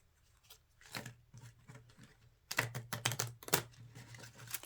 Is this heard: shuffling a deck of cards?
yes